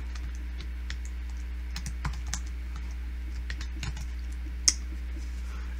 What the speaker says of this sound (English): You're just going to copy and paste in these values. Control C, Control V.